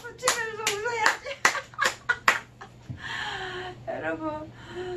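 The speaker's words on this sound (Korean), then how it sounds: "박수 치면서 웃어야지" During a laughter recreation session, a group claps several sharp, uneven beats while laughing, followed by more vocal laughter and voices with fewer claps.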